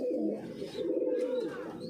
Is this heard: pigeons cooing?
yes